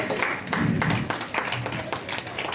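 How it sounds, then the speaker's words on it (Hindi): Audience applause at a Hindi-language literary convention hall, a crowd clapping steadily for a couple of seconds with a faint voice underneath. "तालियां थोड़ी बज जानी चाहिए"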